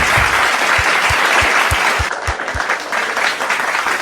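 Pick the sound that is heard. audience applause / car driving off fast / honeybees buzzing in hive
audience applause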